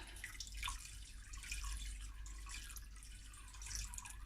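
Pink dye stock is squeezed back into a container during a dip-dye demonstration, giving a faint, soft wet trickle and dribble of liquid close by, with no voices.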